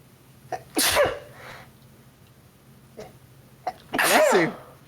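Two loud, close sneezes about three seconds apart, each one a sharp sharp intake followed by a forceful burst.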